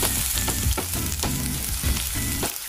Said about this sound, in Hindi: थोड़ा सा फ्राई करना है सभी सब्जियों को, ज़्यादा नहीं फ्राई करना है।